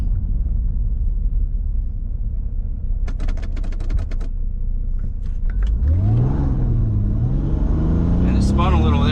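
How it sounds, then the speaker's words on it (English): A wrecked, 270,000-mile supercharged Mercedes AMG C32 V6 cruises with a loud cabin rumble and a burst of rapid clicks, then accelerates hard, its engine note and supercharger whine climbing steeply in pitch. "I can really hear the supercharger kicking in."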